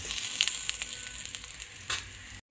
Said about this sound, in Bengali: হয়ে যাওয়ার পরে ওই তেলে আমি কিছুটা জিরে ভেজে নেব।